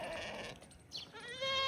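Goat bleating in a farm setting among sheep and other livestock, a few short, faint wavering bleats near the end with quiet background before them.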